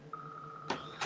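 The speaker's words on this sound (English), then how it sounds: "And that's my phone ringing." A mobile phone rings during an indoor question-and-answer session: a steady electronic tone sounds from near the start, then bursts of a buzzy, broader ring pulse twice, fairly quiet and close, with no talk over it.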